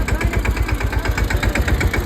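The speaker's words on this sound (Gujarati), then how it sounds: "ટ્રેક્ટર આવી ગયું છે" Tractor engine running close by in a rural farm setting during the cotton harvest, a loud steady diesel chug with rapid even pulses and no one speaking.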